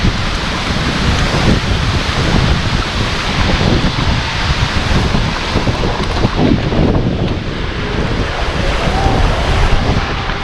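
Strong wind roars continuously against the microphone, mixed with the rush of water and waves, loud and unbroken throughout.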